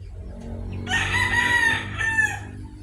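A pet rooster crows once, loud and close, among a flock of chickens, with low clucking and farmyard murmur running underneath.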